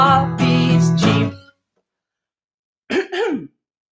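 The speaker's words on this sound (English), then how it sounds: "I was supposed to cough into my arm there." A man coughs and clears his throat indoors, one longer rough burst followed after a pause by a shorter, close, loud one, with no talking.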